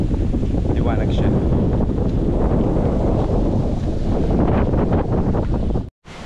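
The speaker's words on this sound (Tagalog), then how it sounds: "Grabe, lakas ng hangin." Strong wind buffets the microphone on a beach at Lobo, Batangas, as a loud, continuous roar with rumbling gusts, and surf may be faintly mixed in before a brief dropout at the end.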